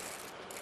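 A high-speed 7.1:1 baitcasting reel on a medium-heavy rod with 16-pound fluorocarbon line gives a quick burst of dense mechanical ratcheting while a bass is reeled in, brief, steady and fairly faint, with no voices.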